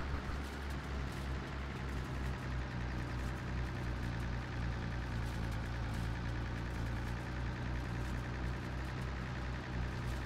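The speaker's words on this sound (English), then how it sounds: "Do need to service this tractor at some point." A tractor engine idles in Farming Simulator 22, a low steady rumble that holds an even level with no speech over it.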